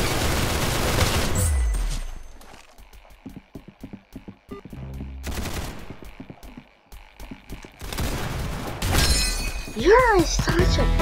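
Gunshots fire in bursts in the Roblox Arsenal shooter game, with quieter gaps between volleys. Voices talk over parts of the shooting.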